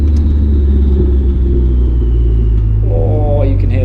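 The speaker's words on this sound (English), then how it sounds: "you could really hear that turbo spooling, especially in the end of that last clip" A turbocharged Mazda MX-5 NC idles and rumbles loudly and close, with a thin rising whine of turbo spool audible over the deep engine drone and a brief throttle blip near the end.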